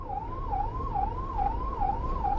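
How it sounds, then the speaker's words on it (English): A wailing emergency siren rises and falls in a steady, repeating cycle at night in Delhi, heard at moderate distance over low traffic rumble. "the sound of sirens at night is a reassuring one"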